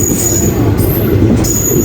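A train rumbles steadily nearby, loud and continuous, with thin high-pitched wheel squeals ringing over the low clatter.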